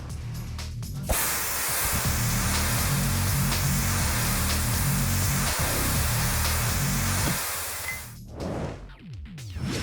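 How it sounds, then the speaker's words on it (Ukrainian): An aerosol car air-conditioner cleaner spray can, valve locked fully open inside a car, hisses loudly and continuously for several seconds, close by, then stops, followed by faint handling noises. "ми кладемо наш спрей у підстаканник і затискаємо клапан до повного."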